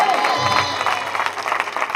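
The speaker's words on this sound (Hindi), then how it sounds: "अपने हाथ उठाइए, हाथ उठाइए और ताली बजाइए यीशु के नाम में। जोरदार ताली बजाइए, जोरदार।" A church congregation at a Hindi Christian healing service claps together in a dense, steady burst of applause, with a preacher's voice ringing over it.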